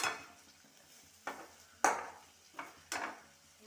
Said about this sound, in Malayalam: നമുക്ക് ഇനി ഒന്ന് ഇളക്കാം.